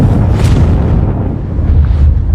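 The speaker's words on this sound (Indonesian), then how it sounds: "ledakan besar pun tak terhindarkan" A huge landmine blast in a film rolls out as a loud, low, sustained rumbling boom that fills the short clip without any talk.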